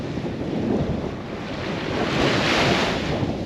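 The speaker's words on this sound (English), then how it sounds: "just walking along the beach" Ocean surf rolling onto a beach on the South West Coast Path near South Haven Point, a steady washing roar with gusting wind buffeting the microphone, swelling louder toward the end, no voices.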